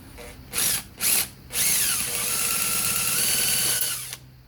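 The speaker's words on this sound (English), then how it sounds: "You can hear it flicking off the bolt." A power tool spinning on a 2009 Pontiac G5 transmission pan bolt: two short close bursts of high whirring, then a longer sustained spin that rises and holds before cutting off, with a voice briefly underneath.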